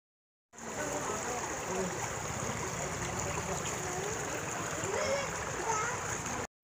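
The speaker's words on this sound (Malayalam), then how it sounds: "കാട്ടിൽ നിന്നൊക്കെ ഈ വെള്ളം ഒഴുകി വരുന്ന ശബ്ദം കേൾക്കാൻ തന്നെ നല്ല രസമാണ്." Stream water pours down from the forest near Vattavada in Munnar, a continuous close rush and splash that holds steady from start to finish.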